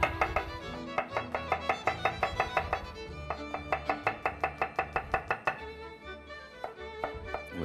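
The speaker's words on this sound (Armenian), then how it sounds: "Սխտորը կտրատենք մանր։" A knife finely chops garlic on a board in a quick, steady run of close, crisp taps that continue throughout, with a tonal layer underneath.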